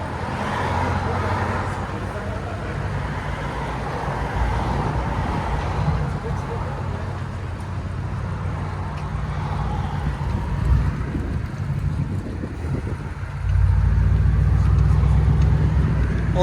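A 2017 Audi S7 widebody with a 4.0L twin-turbo V8 and muffler delete rumbles past outdoors, a deep engine roar swelling and dipping before surging much louder near the end, with wind buffeting and people talking over it.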